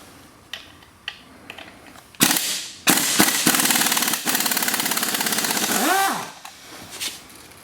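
A power driver with a Torx bit spins out bolts from a plastic shifter cable bracket on a MINI Cooper S, with sharp clicks followed by loud, close bursts of buzzing ratchety whirring. The driver's pitch rises and falls as each bolt comes free.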